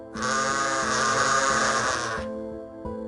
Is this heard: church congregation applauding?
no